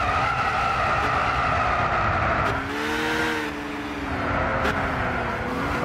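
A Gran Turismo 6 race car on a rain-soaked track drones loudly at high speed, then its engine note falls as it brakes hard midway, with a hissing skid of tyres and wet spray beneath the steady roar and no talk.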